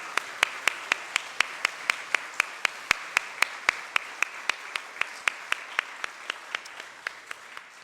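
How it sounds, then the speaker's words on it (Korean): Applause in a church congregation for the Solomon choir after an Easter Sunday cantata; sharp, evenly spaced claps ring out one after another in a steady rhythm, moderately quiet with a reverberant room behind. "솔로몬 찬양대에게 큰 감사와 격려 박수 보내도록 하겠습니다"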